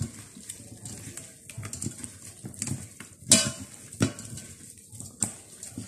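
Raw monitor lizard meat being worked by hand with curry powder to marinate, giving soft wet squelches and several sharp clinks against a bowl, close and fairly loud with no talk.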